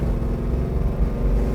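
A 1968 Chevrolet Chevelle SS engine rumbles deep and steady at close range, a continuous low burbling throb with no voices.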